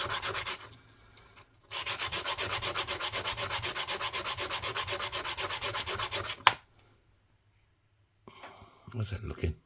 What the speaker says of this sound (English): let's get out a nice clean piece of sandpaper. We just want to clean up the edge.